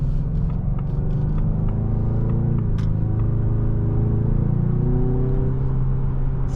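A 2024 Ford Mustang EcoBoost Premium with a 10-speed accelerating, heard from inside the cabin as a steady loud engine drone and road rumble that rises smoothly in pitch, with no talking.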